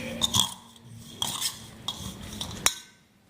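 A spoon clinks and scrapes in a bowl as peanut powder, raisins, salt and cumin are mixed for potato kachori. Several distinct metallic taps and stirring scrapes sound close by, with quiet gaps between them.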